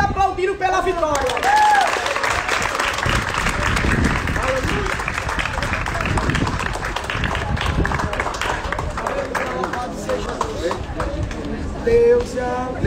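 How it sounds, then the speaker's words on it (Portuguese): A church congregation claps for victory during a worship service, dense rhythmic applause under raised voices and sung or shouted praise that carries on throughout. "Levante aplaudindo pela vitória."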